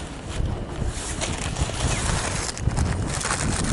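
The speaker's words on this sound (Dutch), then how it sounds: "Maar het waait je zo hard dat zelfs dit ding." Strong wind buffets the microphone in a steady, roaring rush with gusty low rumbles throughout, loud and close.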